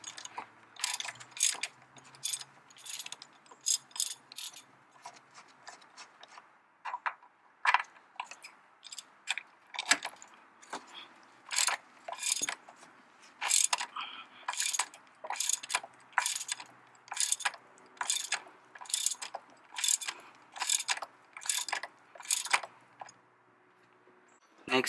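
A ratchet loosens the 17mm motor mount bolts on a 1998-2002 Honda Accord in repeated quick clicking bursts, close and crisp, with short pauses between strokes.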